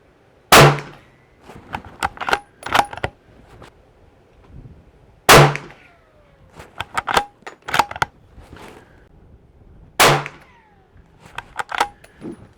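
Three sharp reports from a CZ 527 American rifle chambered in 300 Blackout, evenly spaced about five seconds apart. Smaller clanks and clicks of bolt handling fall between them, with no voices.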